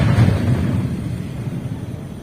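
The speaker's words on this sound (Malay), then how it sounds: "Saya duduk dekat sini pun boleh rasa dia punya getaran meriam tu" Rumbling aftermath of village cannon (meriam) fire on Hari Raya night in Kampung Talang, a heavy low boom at the start that fades slowly into a deep, lingering outdoor rumble.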